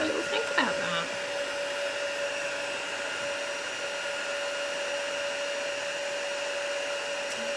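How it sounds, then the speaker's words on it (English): A heat tool blows steadily to melt embossing powder on an art journal page, a continuous even whirring hum with a faint tonal whine, running unbroken throughout at moderate level with a brief knock near the start. "So I'm just allowing the heat to emboss it."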